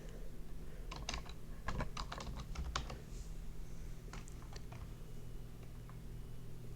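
Typing on a computer keyboard, a few short bursts of light, crisp key clicks in irregular rhythm, fairly faint over a steady low hum with no voices.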